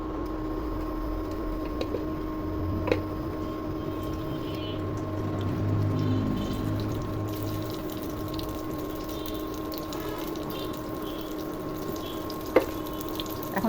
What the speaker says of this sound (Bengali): তেল গরম হয়ে গেছে, এখন বেগুনগুলো ভেজে নিব।